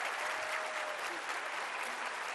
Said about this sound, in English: You'll be sorry you clapped so long